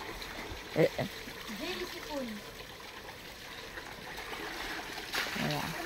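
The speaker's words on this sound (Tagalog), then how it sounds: "Tuwan-tuwa ang mga bata nag-swimming." Children swimming in a cold stream pool at a free resort in Alulod, Indang, Cavite, with a few splashes early on over steady trickling water, while people talk nearby.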